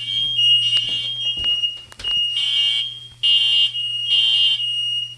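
A household fire alarm set off by cooking smoke, a loud, steady high-pitched electronic beeping in pulsing bursts with a low hum underneath and no talking.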